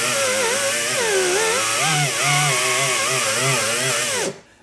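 A heavy Scotch-Brite wheel on a power tool grinds rust and paint off a Mercedes W123, a loud, close, continuous whining drone wavering in pitch as pressure shifts, then spinning down abruptly at the end.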